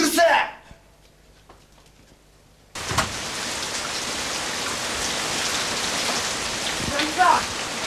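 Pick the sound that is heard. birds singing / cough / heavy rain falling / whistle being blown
heavy rain falling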